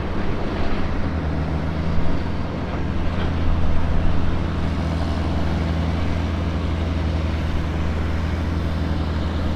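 A farm tractor working a corn silage pile, a loud steady low engine drone with heavy rumble and wind buffeting on the microphone, the machine close and continuous throughout.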